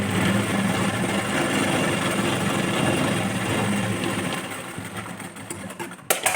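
A sewing machine runs steadily stitching a straight seam on a blouse, a continuous close motor whir with rapid needle chatter that slows and ends in a couple of clicks.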